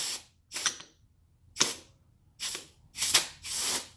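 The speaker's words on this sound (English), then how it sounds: "get your compressed air and push out the caliper pistons" Compressed air drives the pistons out of a Nissan 300ZX four-piston brake caliper, heard as six short, sharp hissing bursts of air with brief quiet gaps between them.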